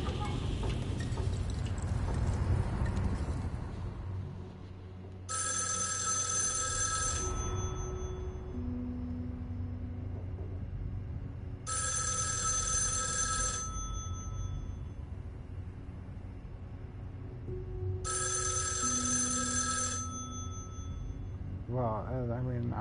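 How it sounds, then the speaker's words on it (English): A hotel telephone ringing in the video game Erica: three long, bright electronic ring bursts spaced several seconds apart, heard over a steady ambient music bed with no talk. "Answering the hotel's phone."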